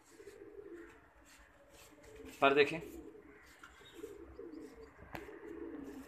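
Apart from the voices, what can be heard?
pigeons cooing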